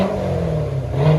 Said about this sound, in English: This is what it sounds like before. We're going to do a muffler delete on it.